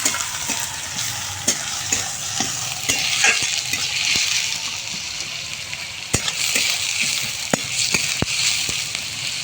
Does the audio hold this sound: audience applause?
no